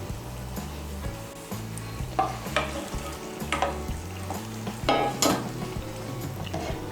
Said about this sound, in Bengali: ডিমগুলোকে ভালো করে ঝোলের সঙ্গে মিশিয়ে নেব।